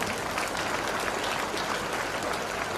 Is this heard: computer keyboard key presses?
no